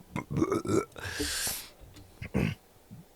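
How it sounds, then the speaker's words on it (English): A loud, drawn-out human burp, wedged between bursts of talking that come just before and just after it. "Got a burp."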